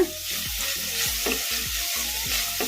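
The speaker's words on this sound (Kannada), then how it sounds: "ಇವನ್ನೆಲ್ಲ ಮೀಡಿಯಂ ಫ್ಲೇಮಲ್ಲೇ ಫ್ರೈ ಮಾಡ್ಕೋಬೇಕು" Spinach and chillies sizzle over a medium flame in a pan, the steady hiss broken by several spoon strokes scraping and tossing the leaves.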